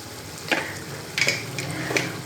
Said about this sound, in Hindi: 5 मिनट तक और मज़ीद फ्राई करेंगे चिकन को